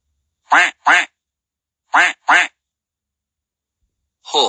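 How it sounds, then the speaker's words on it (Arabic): A duck quacks in two quick pairs of loud, close calls separated by silence, followed by a brief rising call at the end. "duck."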